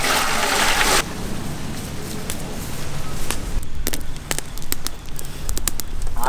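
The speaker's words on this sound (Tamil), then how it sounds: "அழகா தண்ணி ஊற்றிக்கலாம்." Water gushes into a pot in a short, loud pour during the first second, for boiling giant bluefin tuna with vegetables into a fish gravy; scattered clatter and handling noises follow at close range.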